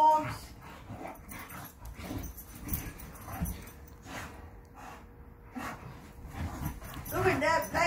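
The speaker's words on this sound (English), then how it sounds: "Crazy dogs! Crazy dogs!" Dogs barking and whimpering indoors, with short yips, whines and snorts scattered across the stretch, fairly close, mixed with a person talking.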